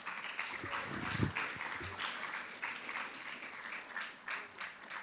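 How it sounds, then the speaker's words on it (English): A crowd at a school varsity sports awards ceremony applauds steadily, a dense patter of clapping from many hands that continues throughout at an even, moderate level. "Round of applause."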